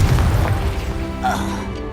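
Booming blast of the Confringo fire spell in Hogwarts Legacy, a heavy low burst with a crackling tail over game ambience and music, rising again midway with a brighter flare.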